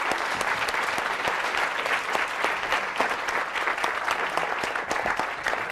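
A lecture audience gives Ngugi wa Thiong'o a sustained round of applause, dense and steady clapping from a large crowd filling the room without a break.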